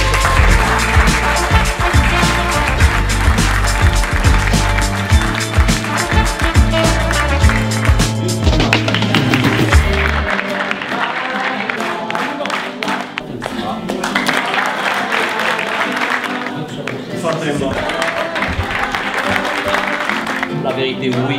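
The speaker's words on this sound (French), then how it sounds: "S'il vous plaît, on peut les applaudir." Audience applause at a business congress event in Dakhla, Morocco, loud and dense at first over strong low music, then continuing with lighter, scattered clapping for about twenty seconds.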